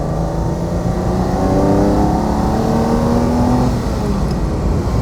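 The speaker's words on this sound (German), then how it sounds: "Tollen Sound. Ich meine, die Maschine ist einfach klasse." A 1966 Ferrari 330 GTC with its 300 hp Colombo V12 revs loudly and close by, its engine note rising smoothly in pitch and then easing back down as the sound carries on steadily.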